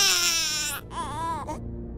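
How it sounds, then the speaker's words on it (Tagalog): An infant wails loudly in an audio drama, one long strained cry breaking into a shorter sobbing burst, close and prominent with no speech over it. "Parehong natigilan ng dalawa nang biglang umiyak si Talasa."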